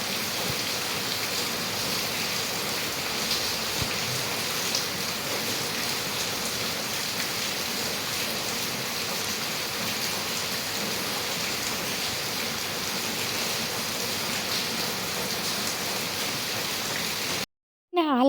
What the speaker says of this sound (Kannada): ಹಾಲು ಕಾಯಕ್ಕೆ ಇಡೋಷ್ಟರಲ್ಲಿ ಇನ್ನೂ ಜೋರು ಮಳೆ ಬಂದುಬಿಡ್ತು.